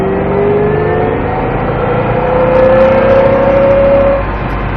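A Ford Mustang Shelby GT500 on a race circuit accelerates at full throttle. The engine note climbs steadily and loudly from near the start, with no voices over it.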